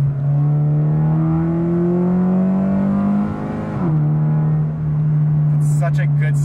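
An automatic Toyota 86 / Subaru BRZ / Scion FR-S engine holds a loud steady drone, dips as it shifts down under hard braking, then a few sharp crackling pops burst from the exhaust near the end.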